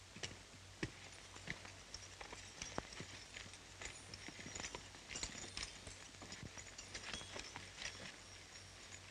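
Horses' hooves clip-clopping at a steady walking pace in a 1936 Western, faint and somewhat distant with a low hum beneath.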